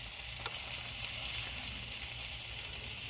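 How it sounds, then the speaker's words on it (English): Bacon sausages sizzle steadily in a hot pan, a constant close hiss with no talking. "There's nothing that beats the sound of that sizzling bacon sausage."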